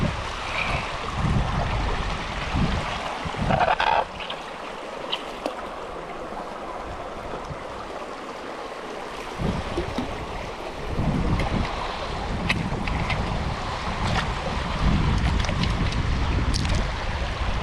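Steady rushing water pours through a gold prospecting sluice box at a river site, a broad continuous wash with brief splashes and bumps, loud and close throughout with no talk.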